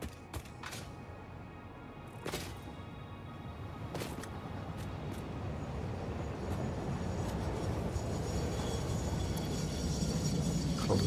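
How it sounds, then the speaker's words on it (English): A freight train arriving in the factory-building game Satisfactory, a steady mechanical rumble and rolling rail noise building gradually in loudness with occasional sharp clanks, heard alone with no talk. "Oh, train's about here"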